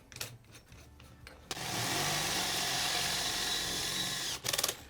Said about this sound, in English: That's why we drill a small hole first before we swap over to this big one.